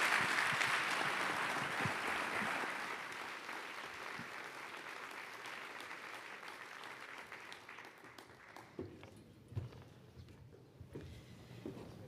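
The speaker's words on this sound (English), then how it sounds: "Let's give them a round of applause, please." Audience applause after a panel conversation at a university summit on modern conflict, a broad steady roar of clapping that slowly fades and thins into scattered claps, quite faint overall.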